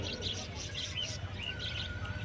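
Budgerigars for sale at the Garia bird market, bright rapid chirps and twitters in short bursts over a low background murmur, moderately close.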